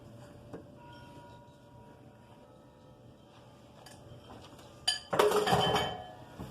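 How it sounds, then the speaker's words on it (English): Dry playdough ingredients poured from a container into a pot on a stovetop burner: a short rush of gritty clatter with a metallic clink against the pot, near and fairly loud after a quiet lead-in. "I'm going to dump my dry ingredients in."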